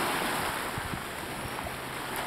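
Ocean waves wash steadily onto a dog beach on Whidbey Island, a continuous broad hiss of surf mixed with wind buffeting the microphone, with no voices.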